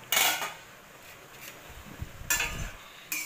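A metal pot lid clinks and scrapes as it is lifted off red amaranth greens cooking with potatoes, giving two short bright clatters separated by a quiet stretch, close and alone without talk.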